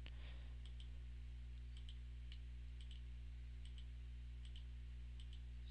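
Computer mouse clicks while marking a bat's end in bat-speed analysis software, a series of faint, sharp, evenly spaced clicks in pairs over a steady low electrical hum, no talking.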